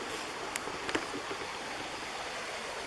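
Laurel Creek in the woods near an abandoned village, a steady broadband rush of flowing stream water, with a couple of faint brief clicks near the start.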